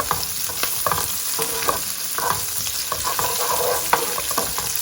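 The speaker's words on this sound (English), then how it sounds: "Next goes in 4 cloves of garlic and a piece of ginger, and I'm going to cook this for a few seconds" Four cloves of garlic and a piece of ginger fry with onions in a pan for a vegan cauliflower potato curry, a close, steady sizzle broken by repeated scraping stirs.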